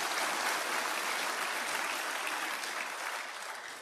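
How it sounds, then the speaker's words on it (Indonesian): Audience applause at a talk, a dense, steady wash of many hands clapping that fills the whole stretch and tapers slightly toward the end. "Tolong berikan tepuk tangan saya."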